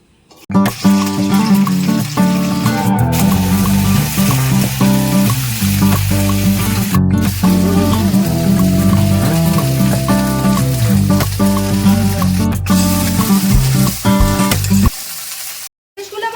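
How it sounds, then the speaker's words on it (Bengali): Okra fries in hot mustard oil in a kadai, giving a loud, steady sizzle with background music throughout, before cutting out near the end. "সর্ষের তেলটা আমার গরম হয়ে গেছে এবার আমি ঢ্যাঁড়সগুলোকে ভেজে নেব"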